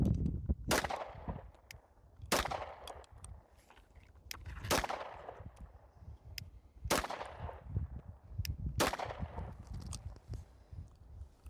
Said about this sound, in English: I'm just going to kind of slow fire this thing and see if I can shoot anywhere near that dot.